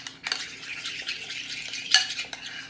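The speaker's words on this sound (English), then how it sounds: "I want to stir it though till I get it really smooth in there" A utensil stirs a thick egg yolk and mayonnaise filling in a bowl, giving a steady close scraping and squishing with a couple of sharper clacks against the bowl.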